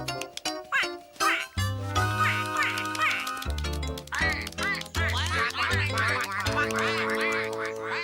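A cartoon mother duck and her ducklings quack repeatedly in a busy, animated burst of honking calls mixed with music and voices.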